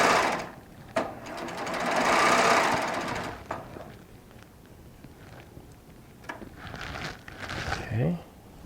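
Baby Lock Triumph serger sewing decorative thread, buzzing in a loud, fast run of a few seconds, then shorter stitching bursts with clicks and thread handling, while a person talks between them.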